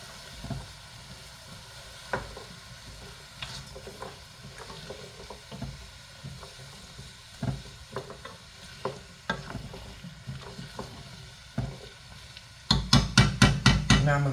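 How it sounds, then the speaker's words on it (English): Carrots added to a pot of split pea soup: soft scattered taps and stirring clatter over a quiet simmering hiss, then a quick burst of loud rhythmic knocks near the end. "I'm gonna go ahead and add the carrots"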